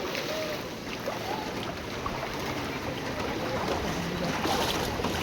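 Floodwater in Lalitpur, Kathmandu rushes steadily into houses and shops, a broad continuous roar of flowing water close by with no breaks.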